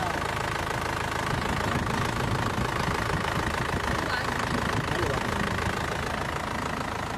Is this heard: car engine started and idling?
yes